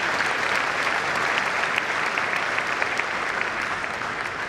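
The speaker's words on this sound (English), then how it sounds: "let's clap for God" Dense audience applause fills a hall at KNUST's 75th anniversary celebration in Ghana, a sustained wash of many hands clapping at steady loudness with no voices over it.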